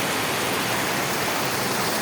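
A swollen village stream rushes after two days of steady heavy rain, a dense, continuous broadband roar of churning water, loud and close, steady without pauses and with no voices.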